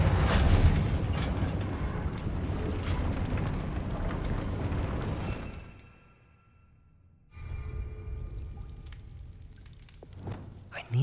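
Reparo repair spell cast on a broken lift in Hogwarts Legacy, a dense rumbling, crackling surge of magic that suddenly cuts to near silence, then returns as softer settling clatters with a final thump.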